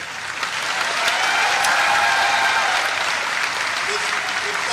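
Crowd clapping at an auto expo in Indore, a steady, full round of applause swelling in and holding strong throughout.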